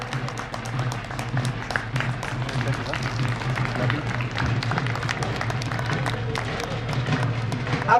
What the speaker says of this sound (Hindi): इनके लिए खड़े होकर के आप तालियां बजाएं